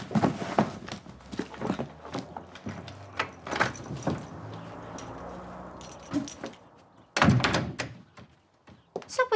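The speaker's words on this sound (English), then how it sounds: "The door's locked." A locked door being tried, with repeated knocks and heavy thunks of the handle and frame, a faint jangle of keys, and footsteps between the bangs, all in a quiet indoor space.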